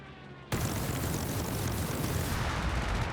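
An anti-tank loiter munition strikes in Company of Heroes 3, bursting suddenly into a loud, roaring explosive blast that stays heavy and sustained for several seconds after near silence.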